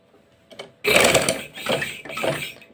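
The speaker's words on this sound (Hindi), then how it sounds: "कोने पे आके आपने बहुत ख्याल से बिल्कुल बुकरम के किनारे पे आपने सिलाई लगानी है।" Sewing machine stitching a shirt neckline along the edge of buckram stiffening, a faint tick before a loud close run of rapid needle clatter that pauses briefly twice and starts again, with no voices.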